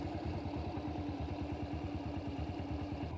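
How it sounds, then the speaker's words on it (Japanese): A Honda CB125T motorcycle with twin carburetors idles steadily at about 1300 rpm after warming up, a close, even, rapid low-pitched chugging with faint mechanical clatter. "暖気が終わると1300回転くらいで安定します。"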